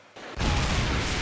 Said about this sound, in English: explosions everywhere, yay!